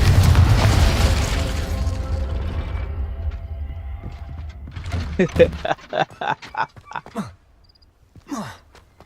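Confringo explosive spell cast in the Hogwarts Legacy video game: a loud boom that fades into a decaying rumble, followed by a voice speaking.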